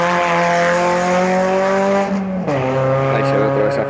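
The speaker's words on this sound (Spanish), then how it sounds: "Se oye la máquina cómo desemboca y viene nuevamente a dar una vuelta hacia la izquierda" A race car engine roars loudly at high revs, pitch holding then dropping sharply as it shifts, before climbing again close by.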